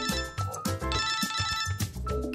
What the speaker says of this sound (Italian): Ti sta squillando il cellulare?